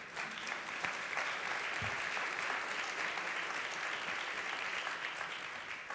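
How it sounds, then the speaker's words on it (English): An audience applauds to welcome a distinguished panel, a steady, even wash of many hands clapping that holds for several seconds, heard from a little distance without talk. "please give him a round of applause"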